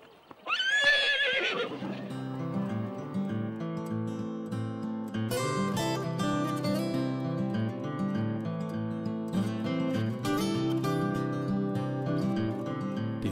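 Horses whinny and neigh at a regional livestock show, one loud close whinny at the start followed by repeated overlapping neighs and snorts with some hoof clatter, continuing steadily throughout.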